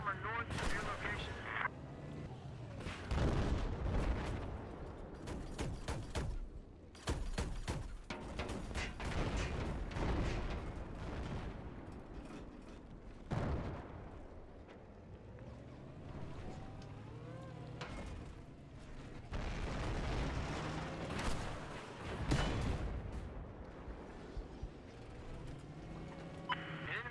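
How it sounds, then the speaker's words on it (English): Missile impact explosions in a military shooter video game, set among repeated booms and bursts of gunfire that rumble on for nearly half a minute while a radio-style voice talks intermittently over the din. "Be advised, missile away. Stand by for impact."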